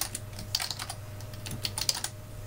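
A computer keyboard is typed on in quick, light, irregular keystrokes while code is entered, with a low steady hum underneath and no voices.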